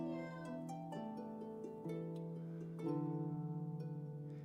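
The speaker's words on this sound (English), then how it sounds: "The meows, of course, are courtesy of Sophia." A cat meows repeatedly during a tai chi session, a string of clear, close tonal mews with short gaps, some longer and drawn out, with no talk over them.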